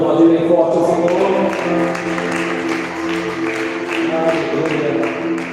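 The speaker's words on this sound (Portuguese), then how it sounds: "pode aplaudir bem forte o Senhor" A church congregation at a Portuguese-language celebration service applauds loudly, rapid dense clapping that carries throughout, mixed with cheering voices and a sustained musical tone beneath.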